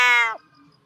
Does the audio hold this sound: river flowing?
no